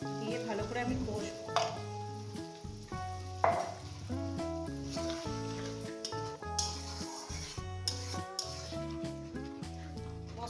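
Spice paste thinned with water fries with potatoes and goat fat for a spicy potato dish, a low sizzle and occasional stirring scrapes in the pan sitting faintly beneath louder background music throughout.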